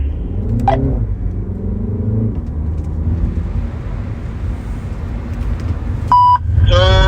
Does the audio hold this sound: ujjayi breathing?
no